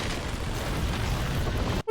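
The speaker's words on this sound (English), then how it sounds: "It's like a mini Death Star explosion" An explosion in the first episode of Ahsoka, a loud, sustained roaring rumble with a broad crackling body lasting nearly two seconds before cutting off abruptly.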